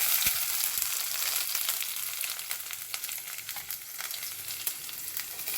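Cumin, black pepper and garlic pieces sizzle steadily in hot oil already heated from frying brinjal, a close, continuous crackle with scattered sharp pops and no talk.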